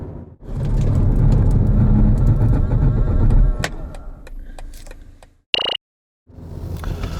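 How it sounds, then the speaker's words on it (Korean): BMW 118d M Sport hatchback (2020) in a braking test: loud road and engine noise for several seconds, easing off, then a brief sharp squeal, a moment of silence, and the rumble returning. "118D 과연 제동 성능은 어떻게 나오는지 한번 확인해 볼까요?"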